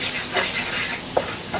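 Close, steady hiss and crackle of garlic frying in margarine with a little oil, with a few soft stirring touches, no voices.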